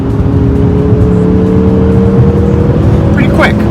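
A 2024 Mazda CX-50 Meridian edition's turbocharged four-cylinder engine in normal mode pulls hard, a loud, steady, close engine drone that builds slightly as the SUV accelerates.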